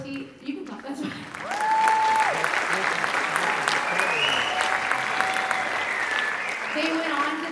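A concert audience applauds a school band at a farewell concert, with a steady, dense wash of clapping that swells and holds and then carries on under a voice speaking over it.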